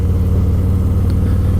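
A motorcycle engine drones steadily on a main road at speed, a loud, constant low rumble with no talking and no clear change in pitch.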